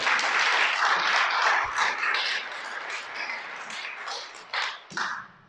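A church audience applauds during a sermon, dense clapping that starts strongly and gradually thins out, leaving a few scattered, closer claps near the end.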